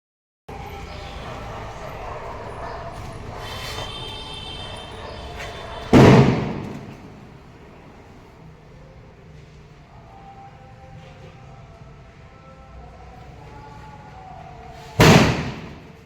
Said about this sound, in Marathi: कुणाल जाणार आहे फटाके उडवायला